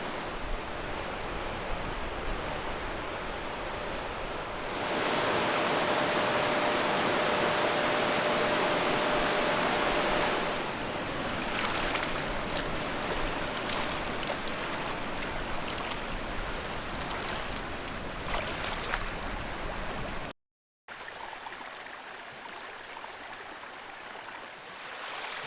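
Water rushes over the Prairie du Sac Dam on the Wisconsin River as a broad, steady roar, swelling louder for several seconds, then settling back and cutting briefly near the end before quieter flow resumes.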